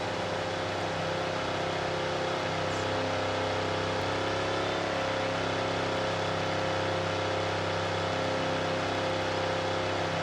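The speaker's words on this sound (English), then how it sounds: "The car does have a subtle but aggressive idle as well as driving" A 2013-14 Ford Mustang engine idles and drives with a steady low, throaty drone and even hum, continuous and moderately close, no voices over it.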